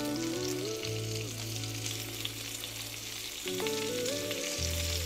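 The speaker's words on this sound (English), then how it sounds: "I'm gonna fry these up." Burger patties fry in a pan with a continuous hissing sizzle, heard under steady tonal background music.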